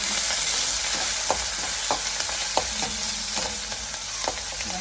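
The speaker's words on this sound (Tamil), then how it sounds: "வெங்காயம் பச்சை மிளகாய் எல்லாத்தையும் போடுவோம். போட்டு நல்லா அதை வதக்கிடுவோம்." Onions and green chillies with cumin seeds sautéing in a pan give a steady, close sizzle, broken by a series of light scraping clicks from stirring.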